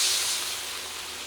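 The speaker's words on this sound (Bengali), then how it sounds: "একটু জল দিয়ে দিই" Water splashed into a hot pan of fried onions, bay leaf and dried chilies gives a loud, broad steaming hiss that fades slowly over a second or so.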